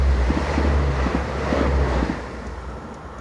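A French Z27500 diesel multiple unit passes on the line toward Paris with a low rumbling drone and rhythmic wheel thumps, loud and close, washed by wind noise and fading slightly toward the end.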